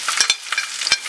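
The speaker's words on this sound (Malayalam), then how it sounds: "ഇതൊന്ന് നന്നായിട്ട് മൂപ്പിച്ചെടുക്കണം" Green chilies, ginger and a dozen garlic cloves sauté in a pan for Malabar mutton curry, with loud, close stirring scrapes and bright sizzling crackle in quick bursts over a brief moment.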